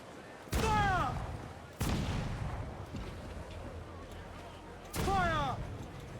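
Cannons fire from a ship during a naval battle in a pirate video game: three loud booming blasts with long rumbling tails, each accompanied by a descending whistling streak, spaced a couple of seconds apart.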